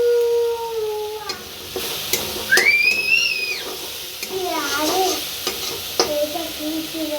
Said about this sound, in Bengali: এর মধ্যে দিয়ে দিলাম আদা, রসুন আর শুকনো লঙ্কা বাটা। একটু কষাবো